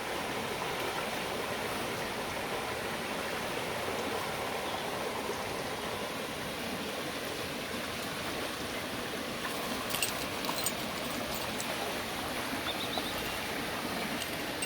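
Continuous rushing of a flowing river stream at Ness Country Park, Londonderry, steady and moderately close, with no voices.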